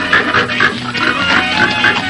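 A pig grunts and oinks in a steady, repeated run of short calls, loud and close, with no talk over it.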